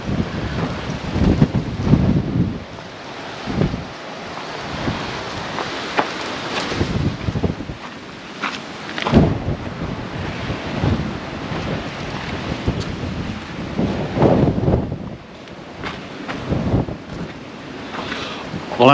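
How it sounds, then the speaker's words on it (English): Powerful wind on the Albany coast by a lighthouse roars in irregular gusts, thumping the microphone with heavy low rumbles that rise and fall throughout. "Sorry about the wind, but it is very windy."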